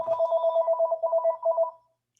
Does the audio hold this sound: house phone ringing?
yes